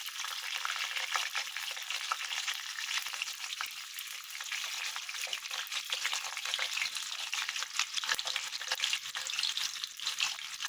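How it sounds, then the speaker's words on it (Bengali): Potatoes frying in a pan for a chicken potato curry, a continuous dense sizzle and crackle of hot oil with occasional stirring scrapes, close and steady throughout, with no talking. "আলুটা একটু লাল লাল করে ভেজে নেবেন।"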